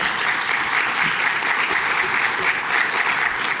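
Sustained audience applause at a nuclear energy workshop, a dense, even roar of many clapping hands at moderate loudness that holds steady throughout.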